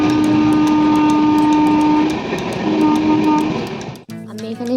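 A train moving along the rails on a morning journey gives a loud, steady rumble with a humming drone that carries on for about four seconds before dropping away suddenly.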